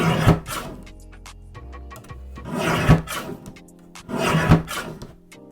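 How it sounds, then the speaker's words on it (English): A Fiskars paper trimmer slices through a stack of printed designer paper in three separate rasping, scraping strokes, each followed by a brief pause, heard up close and alone. "I'm going to bring in my Fiskars trimmer, and I'm going to go ahead and cut all my printed paper all together at once"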